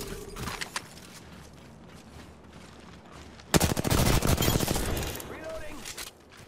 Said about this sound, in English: That had to be like 3 charge rifles.